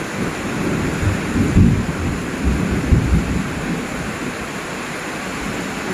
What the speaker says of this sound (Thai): ฟ้าร้องด้วยฟ้าร้อง